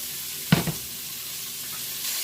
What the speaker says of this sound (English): I'm going to go ahead and throw all my vegetables in. Put it back on the heat.